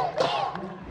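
Filipino fans cheer and shout from the bleachers of a stadium after the Philippines men's baseball team wins SEA Games gold, a loud crowd roar in a brief burst with voices mixed in.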